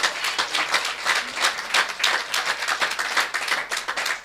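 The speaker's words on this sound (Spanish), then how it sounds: "Dale un aplauso al Señor" A church congregation claps together in a steady, rhythmic pattern, closely miked and fairly loud, with no talking over it.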